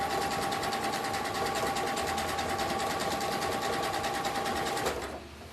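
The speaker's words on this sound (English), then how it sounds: "so now I'm gonna sew from here to here" A sewing machine stitches a clothesline coaster in one steady, fast, rhythmic run of needle strokes that slows and winds down in the last half second.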